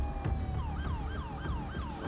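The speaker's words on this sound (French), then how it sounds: "Comme vous entendez vraiment, hein, les sirènes ont vraiment changé." A police car siren on patrol yelps in quick rising-and-falling sweeps, repeating steadily and loudly over a constant engine and road rumble.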